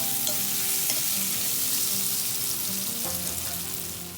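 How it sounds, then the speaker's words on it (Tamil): Pumpkin sautés in a hot pan for a vatha kuzhambu, with a loud, constant sizzle and occasional scraping knocks from a stirring spoon. The sizzle fades slightly toward the end, and there is no talk. "இந்த பரங்கிக்காய் கொஞ்சம் வதங்கணும்."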